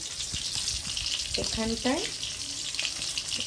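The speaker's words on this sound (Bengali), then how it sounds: "ভাজা হচ্ছে।" Koi fish (climbing perch) frying in hot oil give a steady, bright sizzling hiss throughout, with a brief faint vocal sound partway through.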